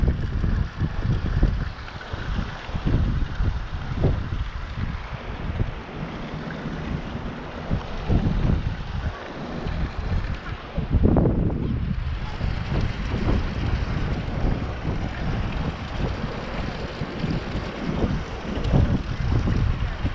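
Strong wind buffets the microphone in loud, continuous gusts beside a dam, with a low roar that surges and eases throughout.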